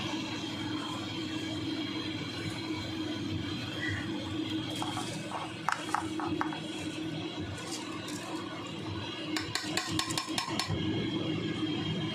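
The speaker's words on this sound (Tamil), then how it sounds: "நம்ம அரிசியை போட்டுக்கலாம்" Basmati rice being tipped into a pot of boiling mutton stock for biryani, a soft steady bubbling and rushing bed broken by scattered clinks and taps of metal utensils against the pot.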